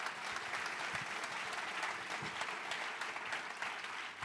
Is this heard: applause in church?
yes